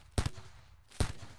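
Gunfire at a boom rat in Rimworld: two sharp, close gunshots about a second apart, each a punchy crack with a short double thump over a quiet background.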